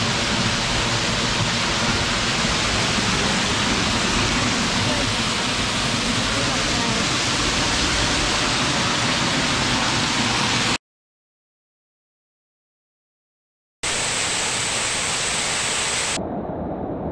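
A waterfall in Kananaskis gives a loud, steady, broadband rushing roar up close. The roar cuts out for a few seconds and then returns.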